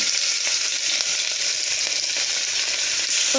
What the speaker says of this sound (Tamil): எண்ணெய் ஊற்றினக்கப்புறமா கொஞ்சோண்டு பட்டை போட்டுக்கிறேன்